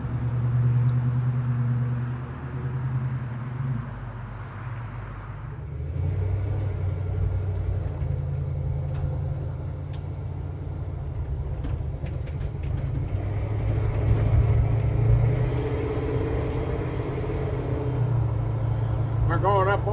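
A red 1951 Chevrolet 3100 pickup truck cruising down a freeway gives a steady low engine and road rumble that swells and fades in waves, with someone talking over the drive throughout.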